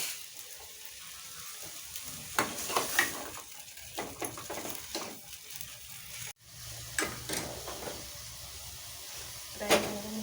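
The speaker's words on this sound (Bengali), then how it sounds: "সাঁড়াশিটা বাইরে ধোয়া আছে, এটা দিয়ে ধরে নাড়িয়ে নেই।" Food heating in a pan while being stirred with tongs: a soft continuous sizzle with intermittent metallic clicks and scrapes, fairly quiet and close, with a faint voice in the background.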